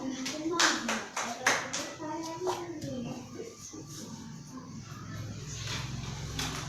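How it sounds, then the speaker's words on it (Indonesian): An elementary classroom of sixth-grade pupils claps for a classmate, a burst of scattered, uneven hand claps close by that thins out into a lower murmur of children's voices and shuffling. "Tepuk tangan buat Maisa."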